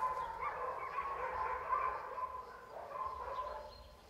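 Dogs bark near a campsite at Anzac Cove, faint and distant, a few scattered barks and yips carrying through the night air with no one talking.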